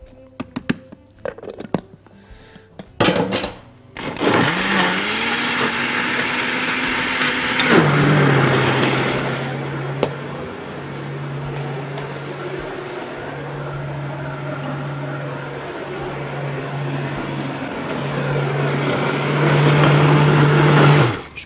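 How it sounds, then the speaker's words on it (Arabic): A blender motor whirs steadily and loudly for a long stretch after some clattering and bumps, blending a mango and coconut milk smoothie, its pitch dropping as the contents thicken. "حرك الخلاط كده ساعده"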